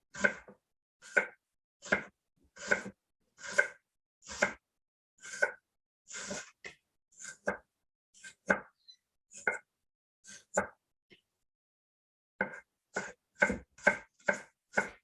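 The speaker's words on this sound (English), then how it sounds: "we're just going to lay it flat on the flat side and just cut it into super thin slices" A knife slicing food into super thin slices on a cutting board for a Greek salad, a rapid regular series of crisp taps, close and distinct, with a short pause midway before the rhythm picks up again, no talking.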